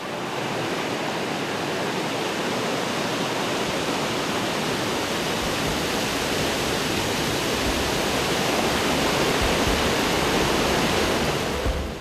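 The Jaguari river in the Serra da Mantiqueira flows with a loud, dense, continuous roar of rushing water, unbroken for about twelve seconds with no voices.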